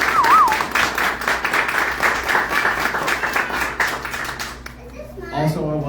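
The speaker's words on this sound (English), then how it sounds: "can we give them a round of applause," An audience at a speech event claps for the hospitality staff in a dense round of applause that fades out near the end, and a voice starts speaking as it dies away.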